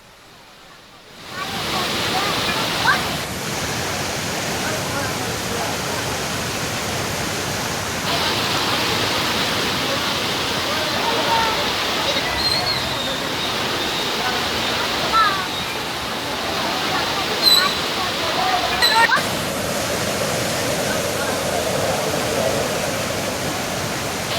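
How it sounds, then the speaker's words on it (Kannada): Heavy-rain floodwater rushes along a village road in Belagavi, filling the panchayat grounds: a dense, continuous roar of flowing water, steady and close throughout. "ರಸ್ತೆಯಲ್ಲಿ ದೊಡ್ಡ ಮಟ್ಟದಲ್ಲಿ ನೀರಿನ ಹರಿವನ್ನು ಗಮನಿಸ್ತಾ ಇರ್ಬೋದು ನಾವು"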